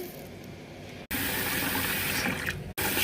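Spinach being washed under running water for dal, a steady close gush of water with two brief breaks, no voices.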